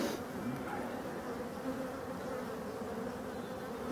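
Honeybees buzz steadily and faintly at an open Voirnot beehive in a forest during the good season, a continuous close hum of many wings with no talking.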